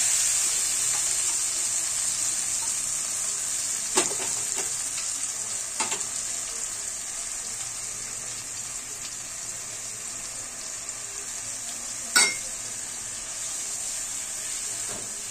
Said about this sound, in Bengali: এরপরে আমি ওই সর্ষে বাটা দিয়ে দিচ্ছি